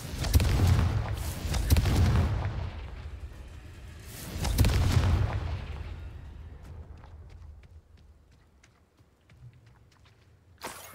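Confringo, an explosive spell in a Harry Potter video game, sounds as two heavy booming blasts about four seconds apart. Each rolls out as a low rumble, and a sharp crack arrives at the end, with faint crackling between.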